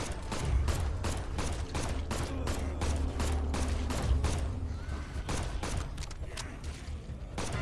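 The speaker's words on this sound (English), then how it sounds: "I cast fucking dual pistol." Dual pistols firing in the roguelite boomer shooter Bloodshed, a rapid, steady stream of sharp shots with a low rumble beneath, loud and continuous throughout.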